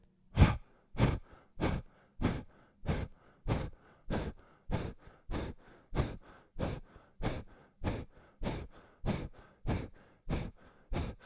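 A yoga class's slow guided breaths in and out repeat about twenty times in a steady, even rhythm, each breath loud and close with a brief pause between them, and no talking.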